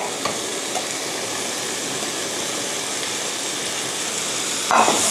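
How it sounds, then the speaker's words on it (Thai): Kimchi seafood pasta with mushrooms stir-fries in a pan with a constant, close sizzle and scraping stir, steady throughout with a brief louder clatter near the end. "ผัดให้ทุกอย่างสุกเข้ากันนะคะ"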